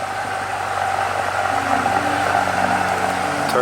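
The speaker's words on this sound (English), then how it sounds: "Listen to this thing just at idle." A BMW F90 M5 with an AWE SwitchPath catback exhaust idling with a deep steady rumble and droning hum, close and constant throughout.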